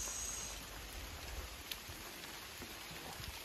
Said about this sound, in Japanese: めちゃめちゃ雨。